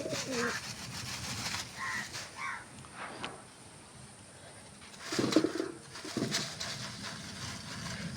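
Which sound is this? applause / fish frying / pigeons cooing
pigeons cooing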